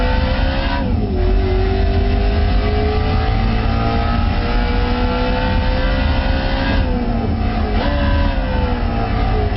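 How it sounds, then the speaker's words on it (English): BMW M3 E92 V8 engine in Gran Turismo 5 Prologue, a loud steady game engine note that rises and falls through gear shifts and revs, with a couple of clear pitch drops, no talk. "Listen to that V8. It's one of my favorite sounds in the world. That V8 grunt."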